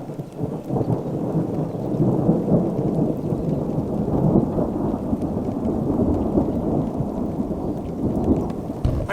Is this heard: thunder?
yes